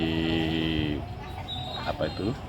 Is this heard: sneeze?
no